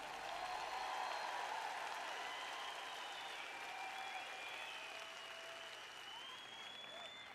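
Applause from a congregation at a French-language Christian teaching event, a soft, distant wash of clapping that slowly tapers, with faint tonal sounds drifting above it.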